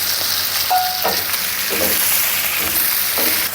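Ingredients sizzle loudly and continuously in hot oil in a pan, a dense close frying hiss with a few faint clinks, no voices.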